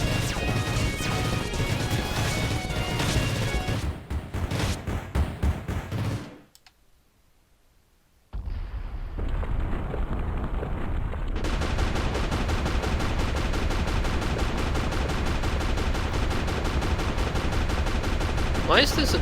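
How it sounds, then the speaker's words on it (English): A wall blowing apart in the video game Freedom Planet 2: loud, dense crashing and smashing bursts fill the clip, with a brief drop to near silence partway through before the heavy rumbling destruction resumes. "Why is this entire wall going boom if all I did was kill the crab?"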